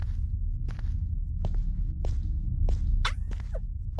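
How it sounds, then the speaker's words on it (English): Footsteps in a Santa-themed video game thud in a steady, evenly spaced rhythm over a heavy low rumble, with a couple of sharper clicks and scrapes near the end. "My footsteps sound crazy."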